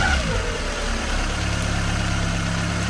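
A small engine idles right after a choke start, running close and loud with a rough, steady low drone, alone with no voices.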